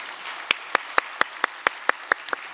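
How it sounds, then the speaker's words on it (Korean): Church congregation applause during a Sunday worship service: about nine sharp, evenly spaced claps ring out one after another in a crisp, steady rhythm over quiet background. "박수로 환영하겠습니다"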